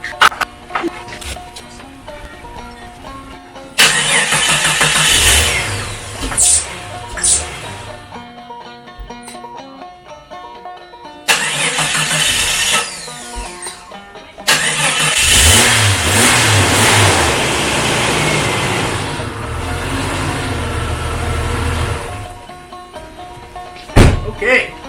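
A 1992 Jeep Cherokee engine cranks, starts and revs in loud surging bursts, with rough idling and clunks between them, close by.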